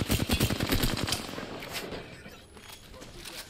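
Rapid automatic gunfire in the video game Apex Legends, a close burst of quick shots in the first second that fades into softer scattered fire, with faint player voices underneath.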